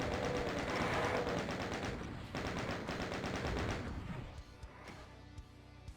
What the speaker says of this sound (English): Just use your chain gun and soften them up.